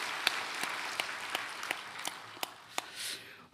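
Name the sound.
congregation applause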